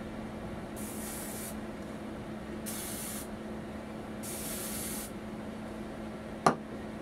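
Hairspray sprayed onto hair held upside down for volume: three separate hissing aerosol bursts of roughly a second each, close and steady, with a brief sharp knock near the end.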